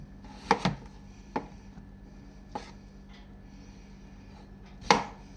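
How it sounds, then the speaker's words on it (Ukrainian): A knife chops vegetables into thin strips for beetroot soup: a handful of sharp, separate thuds against a board, spaced irregularly and fairly close, in a quiet room. "Будемо нарізати соломкою."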